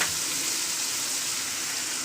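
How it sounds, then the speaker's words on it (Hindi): Cabbage and vegetables fry in a pan for tikka macaroni, producing a loud, continuous sizzle that holds steady throughout and is heard alone without speech. "अब इनको फ्राई करते हैं अच्छे से"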